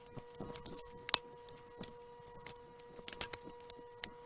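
Small metallic clicks and taps as fasteners are removed from a Maytag double oven's circuit board, quick irregular ticks close up over a faint steady electrical hum, nobody speaking.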